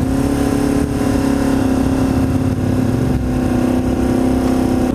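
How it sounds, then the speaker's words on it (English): A motorcycle engine idles unusually high after an attempted idle fix, holding a loud, steady, slightly wavering drone close by for the whole stretch with no talk over it. "my bike is idling extremely high"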